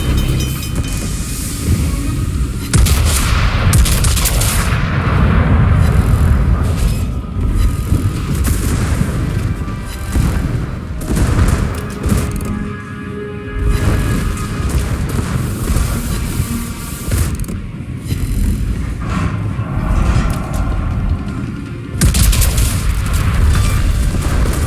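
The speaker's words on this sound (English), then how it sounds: "Enemy destroyer blown up." Battleship gunfire and explosions in World of Warships, a Libertad battleship in a Pacific Offensive operation: continuous dense rumbling booms and blasts, loud and layered, with repeated heavy bursts throughout.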